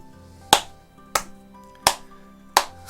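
Four slow, evenly spaced hand claps, each sharp and distinct with roughly a second of quiet between them, over a faint low background hum.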